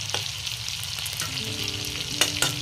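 Dried fish (shutki) frying in a pan, a steady close-up sizzle with a few sharper crackles and spatters toward the end, no voices.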